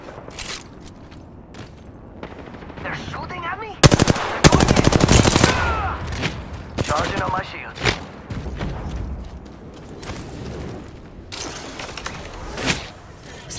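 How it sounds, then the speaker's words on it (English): Video-game gunfire crackles in dense automatic bursts, loudest around the middle, amid chaotic battle noise with a voice talking over the action. "I am taking fire, friends. Getting shot at."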